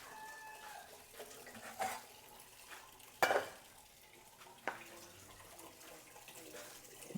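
Water runs from a tap with a broad, steady hiss that stays faint throughout, broken by a few clunks and splashes.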